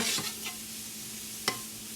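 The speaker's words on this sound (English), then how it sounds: "And we're going to add some flour to this, just a few tablespoons." Flour being stirred into sizzling vegetables in a hot pan for a cream sauce: a steady close-up fry hiss with a few scraping stir strokes, one sharp clack near the end, and no voices.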